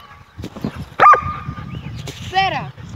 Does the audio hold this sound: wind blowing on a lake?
no